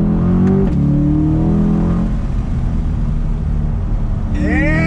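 A Corvette C8 Z51 convertible accelerates hard on throttle, its engine rising in pitch as it revs up, shifts, then climbs again, loud and close, with people cheering over it.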